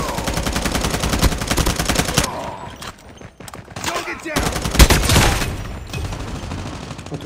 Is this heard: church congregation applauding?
no